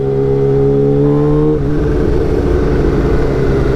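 A Kawasaki Ninja H2 motorcycle engine drones loudly and steadily under a rider, a close, continuous mechanical roar with a brief shift in pitch partway through.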